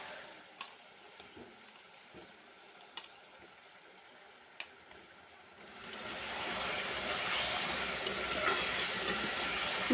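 Fried potatoes are stirred into a vegetarian curry in a pan, with steady sizzling that swells louder in the second half, plus faint scraping and a few light ticks, no talking.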